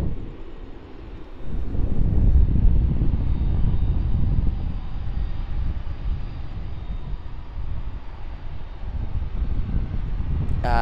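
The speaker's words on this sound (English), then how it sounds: "another Qantas 73 coming out for departure from the domestic terminal." Qantas Boeing 737 taxiing out from the domestic terminal for departure at Sydney Airport, a steady low engine rumble with wind noise, held at a fairly even level throughout.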